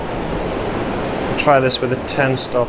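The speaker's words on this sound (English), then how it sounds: "Sorry for the noise of the waves" Steady surf washes in a continuous roar at Steetley Pier, Hartlepool, with someone speaking briefly over it in the second half.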